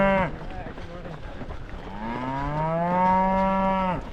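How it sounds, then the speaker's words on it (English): Cattle lowing near a half-marathon course on a fine morning, two long moos, the second a drawn-out bellow rising and holding, heard fairly close with no talk over them. "You can hear the cows going there in the background."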